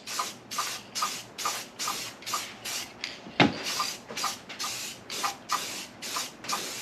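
Flat black spray paint hisses onto the tailgate of a Range Rover Classic in a run of short, rhythmic bursts, about a dozen quick passes at close range with a sharp click midway.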